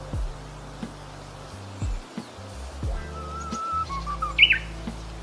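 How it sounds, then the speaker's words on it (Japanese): Birdsong outdoors in the countryside of Kita-Harima, Hyogo, where a Japanese bush warbler was heard: several short chirps and whistled calls, moderately near, with a brighter rising phrase near the end over low background rumble. "今日ね、ウグイスの鳴き声ね、 聞こえてきましたね。"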